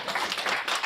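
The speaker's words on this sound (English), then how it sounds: "Can we just clap for a minute to make it sound like we're having fun?" Short burst of hand clapping from a small group of people at a chatbot-building session, brisk and fairly close.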